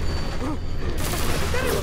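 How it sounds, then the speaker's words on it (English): Rapid gunfire rattling in Deus Ex: Mankind Divided, a dense crackle of shots over a rumbling game soundscape, with brief voice-like tones mixed in. "Who is shooting at what?"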